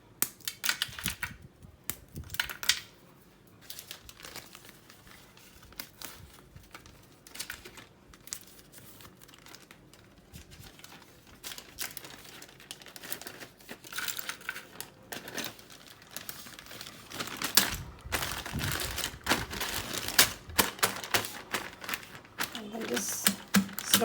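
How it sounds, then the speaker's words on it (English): Caramel cashew crunch is crushed inside a Ziploc bag, giving a steady run of close, crackling crunches and plastic crinkles over about twenty-four seconds, busier and louder toward the end. "So I'm going to put it in a Ziploc and then crush this."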